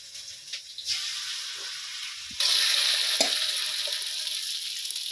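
Water lily stems frying in a pan, a soft steady sizzle that swells louder partway through, with a few faint stirring clinks and no talk.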